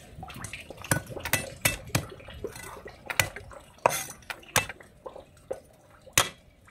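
Cut pieces of tofu dropped into a bowl in a home kitchen, a string of sharp clinks and light wet knocks at an uneven rhythm, close and distinct with no talking.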